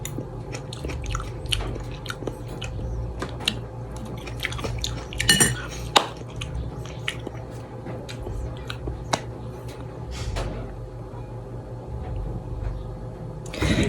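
Dishes, pots and cutlery clink and scrape as people start a meal of boiled eggplant with ginamos, with scattered sharp taps over a steady low hum, some chewing mixed in.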